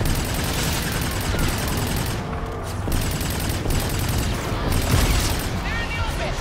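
Call of Duty Infinite Warfare combat: a steady wall of gunfire and booming blasts rolls on continuously, with voices talking over the dense battle noise throughout.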